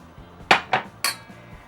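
A spoon knocks against a bowl while scooping a big tablespoon of mustard onto pork, making three sharp clinks in quick succession, close and fairly loud, with no talking.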